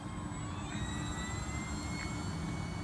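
An RC P-51D Blondie 1.2 m model airplane with a 13x6.5 propeller whines continuously overhead during a night flight, its electric motor pitch steady and slowly rising.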